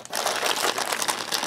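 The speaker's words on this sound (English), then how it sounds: "This is just a simple clear plastic bag with a small heat seal on top." Clear plastic heat-sealed bag from an Australian Defence Force CR1M ration pack, Menu A, crinkled up close in a steady, busy rustle of dense crackling with no voice over it.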